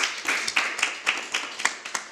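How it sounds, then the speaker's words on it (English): A small group clapping at a city council meeting, sparse and uneven claps with distinct individual hand strikes in a short, thin burst rather than a full ovation. "I feel like it's a round of applause time."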